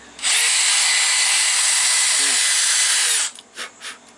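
A power drill fitted with a 3/16 bit bores a hole up through the bottom of a corroded trail camera, a loud, steady high whine running about three seconds close up before winding down with a few short revs.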